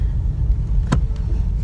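A VW Tiguan drives past on a neighbourhood street, a steady low engine and tyre rumble with one brief sharper swish midway, fairly close and without voices.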